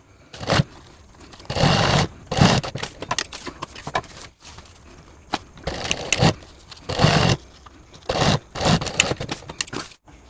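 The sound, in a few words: sewing machine stitching backpack fabric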